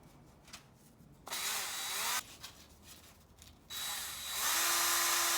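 Sandpaper rubbing a wooden chair dowel spindle at fine grit, two sustained hissing bursts of sanding heard close and moderately loud, with quieter pauses between them.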